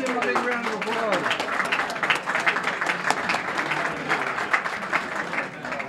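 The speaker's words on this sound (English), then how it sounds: "Let's give him a big round of applause" An audience at a lacrosse Hall of Fame ceremony breaks into applause, dense clapping that builds and carries on steadily, with a voice talking over it near the start.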